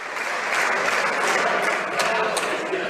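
Applause in the Canadian House of Commons as members welcome someone about to speak, a moderate, sustained patter of many hands with some crowd murmur beneath, heard at a slight distance.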